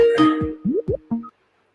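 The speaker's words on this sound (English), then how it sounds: "Hang on, it's somebody ringing me." A short electronic call tone plays a few quick rising bleeps and a chime, then stops, leaving silence.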